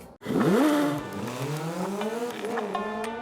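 Race car engines roar and rev at the Race of Champions in Mexico, a loud near engine rising sharply in pitch, dropping, then climbing again through gears.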